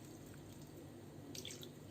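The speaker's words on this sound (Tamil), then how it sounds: "இப்போ கொஞ்சம் கொஞ்சமாக தண்ணி சேர்த்து" Water trickles and drips steadily into a bowl of mint chapati dough, a soft continuous pour at moderate distance with a brief brighter splash near the end.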